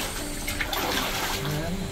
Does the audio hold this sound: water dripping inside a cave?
yes